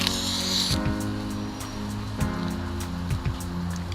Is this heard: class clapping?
no